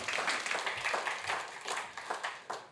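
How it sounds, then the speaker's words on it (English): Audience applause at a university innovation showcase pitch event, many hands clapping in a steady, dense patter that carries on evenly, heard from within the room at moderate level. "Another round of applause for edible cutlery."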